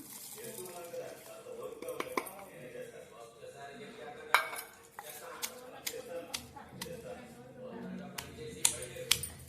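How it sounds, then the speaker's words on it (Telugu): Masala spices pounded by hand in a stone mortar, giving sharp knocking hits at an irregular pace, some clustered and some spaced apart, heard faintly beneath a person talking. "ఇలా దంచుకుంటే మిక్సీలో కన్నా ఇలా దంచుకుంటే కొంచెం టేస్ట్గా ఉంటుందండి"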